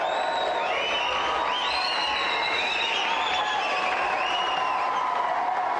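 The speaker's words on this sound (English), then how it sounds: "let's have a big round of applause for our winner, Steve, the man." A large TV game show studio audience applauds and cheers continuously, with whoops and whistles rising over the sustained clapping.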